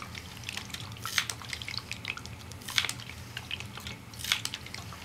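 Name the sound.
water dripping through MSR Miniworks EX filter into reservoir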